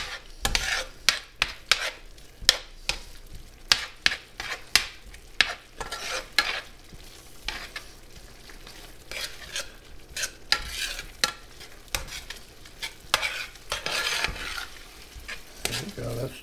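Tomato sauce is stirred in a sizzling pan, with a spoon dragging and scraping in irregular bursts over a low frying hiss, close and clear, without talking.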